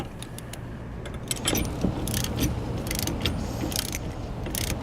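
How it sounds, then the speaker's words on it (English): A 3/4 inch socket and wrench working bolts off a tow bar bracket on a 2018 Lincoln MKX, with quiet metallic ratcheting clicks and small clinks close by over a steady low background hum. "So I'm going to take a 3/4 inch socket and wrench and remove these bolts here."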